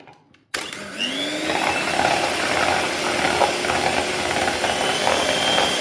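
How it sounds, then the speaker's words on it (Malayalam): An electric hand beater whips egg whites with powdered sugar for a pavlova. It starts abruptly after a quiet moment, then whirs loud and steady nearby with rattling and scraping in the bowl, with no talk. "വൈറ്റ് ഇതിലേക്ക് ഒഴിച്ചു കൊടുത്തിട്ട് നമുക്ക് നന്നായിട്ട് ബീറ്റ് ചെയ്യാം."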